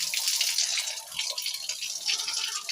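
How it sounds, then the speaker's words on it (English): Water is released and runs steadily through a goat pen, a continuous bright hiss and splash heard close, with no voices over it. "release the water."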